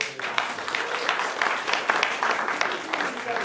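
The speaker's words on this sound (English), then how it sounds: "so just a big round of applause for them" Audience applause at a lecture series talk, a dense, steady wash of clapping from a room of listeners held at a fairly even level throughout, with a few voices mixed in.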